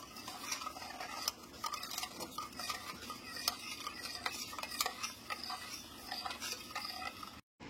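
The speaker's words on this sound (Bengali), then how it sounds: "সমস্ত মিশ্রণটা এবার একটা হ্যান্ড উইক্সের সাথে খুব ভালো করে মিশিয়ে নিচ্ছি।" A hand whisk beating a raw green mango ice cream mixture with mint and sugar paste in a bowl, producing steady quick clicking and tapping strokes, close but quiet, continuing throughout.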